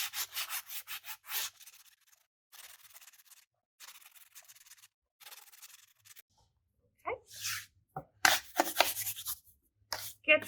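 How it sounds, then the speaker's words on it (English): Sandpaper is rubbed by hand along the edges of an MDF board in short, fast back-and-forth strokes, coming in separate bursts with pauses between them, close and quiet. "you will need to paint the sides of it. So you will need to sand those as well."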